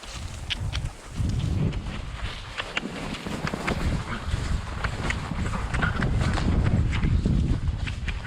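A tired horse's hooves walk through mud while haying, giving a steady run of soft thuds and clops under continuous loud outdoor noise.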